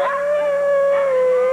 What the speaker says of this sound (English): these hills come alive with the sound of huskies